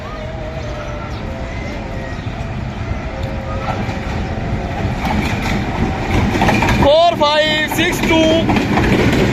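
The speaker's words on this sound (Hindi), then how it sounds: "8 down Tezgam express Badami Bagh railway station से अभी थ्रू पास हो रही है।" The Tezgam Express, 8 Down, passes through Badami Bagh railway station in Pakistan, a loud close rumble of wheels and clattering cars with a sharp horn blast partway through, while someone talks over it.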